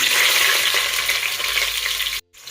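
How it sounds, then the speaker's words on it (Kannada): Onions frying in hot oil with cinnamon and a clove for green pulao, a steady loud sizzle close up that cuts off abruptly near the end. "ಈಗ ನೀರುಳ್ಳಿ ಹಾಕಿ ಚೆನ್ನಾಗಿ ಫ್ರೈ ಮಾಡ್ಕೊಳ್ಳೋಣ"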